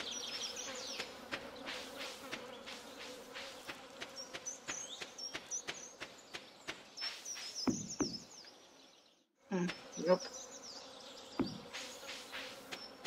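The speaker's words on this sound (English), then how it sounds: "The buzzing noise is driving me crazy." Insect buzzing in the farming video game Stardew Valley: a constant high whining drone runs through the whole scene alongside a series of sharp rhythmic knocks and clicks, briefly dropping out before resuming.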